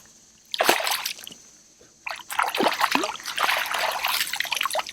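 Water trickles and splashes at a creek mouth among shallow grass and lily pads, irregular splashy bursts after a quiet start, fairly close and moderately loud.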